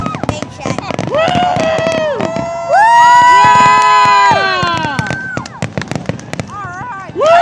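Canada Day fireworks burst outdoors amid a loud, close crowd, with whooping and cheering voices rising and falling over crackling pops and booms, and a long sustained cheer in the middle.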